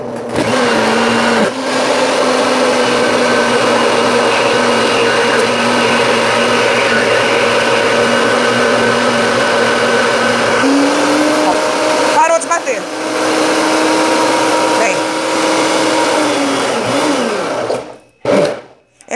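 A kitchen blender runs steadily as it blends homemade cilantro mayonnaise with oil. The loud motor drone holds for most of the time, shifts pitch midway and cuts off near the end.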